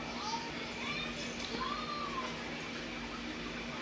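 A house cat meows a few times, short rising calls close by, with a person talking to it over faint background noise.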